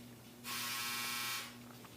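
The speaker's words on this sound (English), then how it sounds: "My dryer is going to keep doing that until someone stops it." Home clothes dryer sounding its end-of-cycle alert, one sustained harsh electric buzz lasting about a second over a low steady mechanical hum, fairly quiet and alone.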